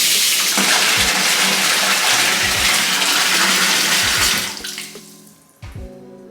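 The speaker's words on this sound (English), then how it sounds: "If we rotate this guy, that redirects the water over to the shower launch." Water gushes steadily from a bathtub tap in a remodeled primary bathroom with a jacuzzi tub, a loud continuous splash that drops off near the end as the flow is redirected, with a few soft clunks of the valve.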